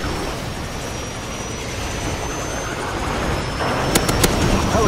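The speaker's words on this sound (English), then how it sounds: "Enemy airstrike on the way!" Airstrike explosions in Call of Duty 4 rumble as a steady, dense roar of distant blasts, with a couple of sharper bursts near the end.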